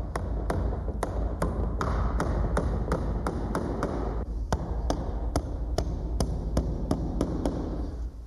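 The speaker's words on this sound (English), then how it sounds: "Again, I'll nail the top and bottom." Nails are hammered into a pre-hung door frame in a fast, even series of sharp taps, about three per second, over a steady background hum.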